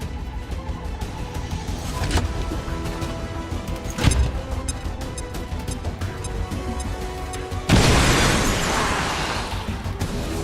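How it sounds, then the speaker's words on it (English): A grenade goes off in a video game amid constant heavy rumble and scattered thuds and pops, ending in one loud, broad blast that stays up as a wash of debris noise. "Throwing grenade."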